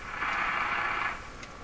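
A Canadian General Electric C403 radio emits a steady heterodyne whistle, a bright, continuous tone that holds for about a second, then fades back into faint background hiss.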